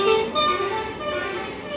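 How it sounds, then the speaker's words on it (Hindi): Trucks and cars on an Indian highway honk, a long horn blast and then fainter drawn-out horn tones that carry through continuous road noise. "ये मुझे बहुत बुरे लगते हैं जो बिना मतलब हॉर्न बजाते हैं।"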